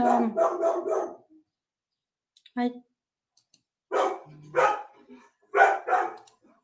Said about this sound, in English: We can hear your dog barking